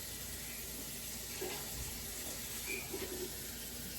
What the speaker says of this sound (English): So let me add just a little bit of water.